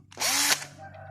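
A Makita DF330D 10.8-volt cordless drill with two speeds spins up briefly, a loud whirring burst rising in pitch and then winding down to a low fading hum, alone with no talk.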